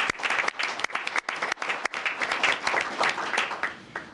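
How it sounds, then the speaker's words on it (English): Audience at a chronic fatigue advisory committee meeting breaks into a round of applause, dense steady clapping for about four seconds with no talk over it. "I think he deserves a round of applause, too."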